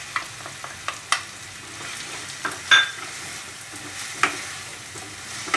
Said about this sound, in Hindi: ये जो 2 बारीक चॉप किए हुए प्याज है वो भी हम ऐड कर देंगे।